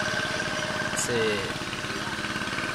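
A small motor drives a water pump draining a fishpond, a steady mid-pitched running drone with a faint rhythmic knock under someone speaking briefly.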